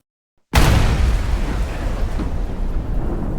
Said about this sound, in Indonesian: Dia harus menjadi korban luka akibat ledakan tabung gas yang sebelumnya sudah disetting agar meledak oleh Songchon